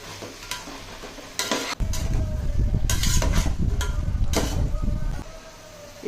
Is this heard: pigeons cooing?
no